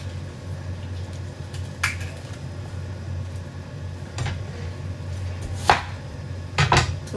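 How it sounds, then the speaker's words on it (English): Knife cutting an onion into big chunks, a few sharp isolated chops spaced apart over a steady low background hum, close and fairly crisp. "So I'm gonna cut the onion into big chunk."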